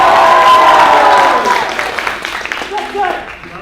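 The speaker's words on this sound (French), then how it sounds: "On l'applaudit, il se démasque pour vous." Crowd applause and cheers at a graduation ceremony, loud at first and then thinning into scattered clapping with voices over it.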